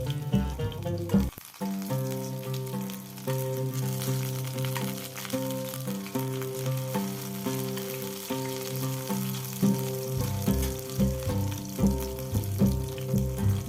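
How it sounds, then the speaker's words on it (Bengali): Stuffed pointed gourd (potol) fries over low heat in a pan, a steady sizzle running under loud, continuous melodic music throughout. "চুলার আঁচটা কম রেখে পটলগুলো ভাজতে হবে"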